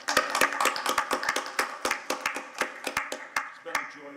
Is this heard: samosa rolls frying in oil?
no